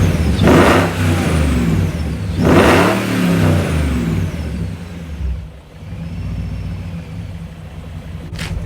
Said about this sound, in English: it sounds like a supercharged turbo car